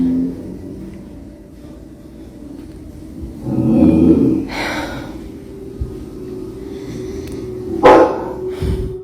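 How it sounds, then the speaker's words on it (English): A family dog gives a couple of sharp barks, sudden and close, separated by quieter stretches of low background rumble. "Even the family dog was freaked out by this. They growl and bark as if sensing something dangerous"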